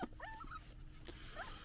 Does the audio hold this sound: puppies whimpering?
yes